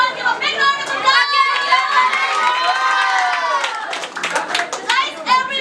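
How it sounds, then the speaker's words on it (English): Loud applause and cheering from a group of students at an English classroom role-play event, clapping mixed with high-pitched shouts and whoops from many young voices, sustained and energetic near the listener. "Everyone, give a big round of applause."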